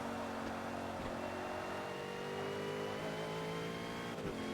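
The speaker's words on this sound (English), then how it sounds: "I can hear his turbo spooling" A race car in the Forza Motorsport video game drives with a steady, loud engine drone and rising whine, likely turbo spool, running continuously with no speech.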